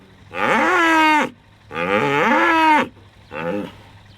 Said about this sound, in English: The cows are almost in the shed. They're just being a little bit slow this morning.